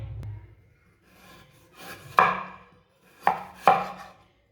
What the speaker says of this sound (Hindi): आलूओं को ना इसी तरह काटना है, लंबे लंबे पीसों में